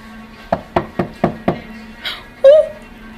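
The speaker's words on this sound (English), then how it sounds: "I think they're starting to knock really hard now." Five evenly spaced knocks on a door, firm and close, followed by a short burst of vocal sounds and a brief tonal squeak-like cry.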